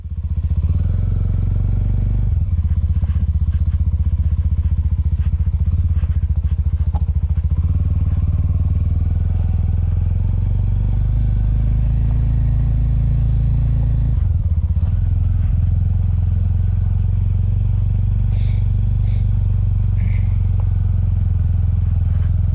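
A motorcycle touring a scenic mountain road toward Mount Timao on Timor, Indonesia, gives off a loud, continuous engine drone for the whole stretch. The throttle shifts briefly along the way, and faint clatter and road noise sit underneath.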